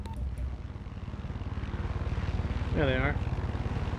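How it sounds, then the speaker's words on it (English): An enemy helicopter in the video game Far Cry 6 throbs with a steady, loud rotor chop throughout, while a player speaks briefly over it. "There's an enemy chopper creeping the skies nearby."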